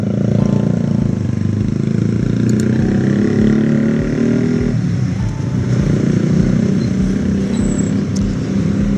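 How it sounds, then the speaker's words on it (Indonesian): A Honda CBR150 motorcycle fitted with a racing exhaust runs steadily and close by, its low, throaty engine rumble continuous and loud for the whole stretch with no talking. "Knalpot Racing CBR"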